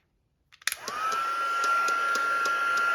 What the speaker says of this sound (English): we're going to heat the whole thing with the heat tool